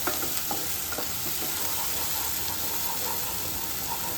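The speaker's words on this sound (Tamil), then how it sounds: "நல்லா வெங்காயம் வதக்கட்டும்" Onions sauté steadily in coconut oil in a pan for a Kerala-style egg curry, giving a continuous close sizzle with occasional soft stirring clicks and no voices.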